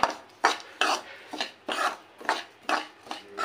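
A ladle rasps and scrapes against a pan while roasting upma semolina with turmeric, in about nine rhythmic, evenly spaced gritty strokes, close and clear with no talk.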